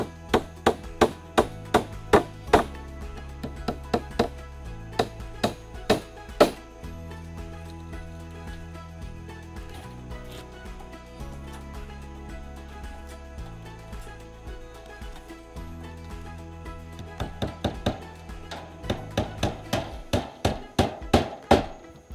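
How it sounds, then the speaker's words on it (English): Staples hammered into hardware cloth on a wooden compost sifter frame, heard as sharp, close, loud knocks in quick clusters at the start and the end, with a steady musical backing between the bursts. "secure the hardware cloth with the nailable staples and cut off any excess"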